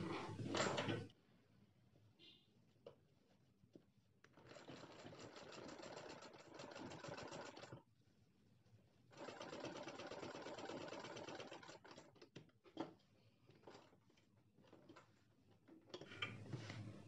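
A sewing machine stitches a seam on a nighty in bursts, with steady runs of mechanical whirring broken by pauses and small clicks of handling fabric, up close and with no one talking.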